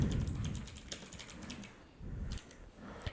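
Fingers type a listing title on a computer keyboard in short bursts of quick, close key clicks, with brief pauses between clusters and a few louder taps near the end.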